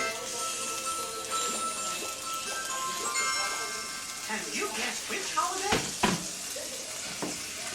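Pancakes frying in butter on a hot griddle give a steady soft sizzle, with clinks and scrapes of utensils near the end and voices talking over it.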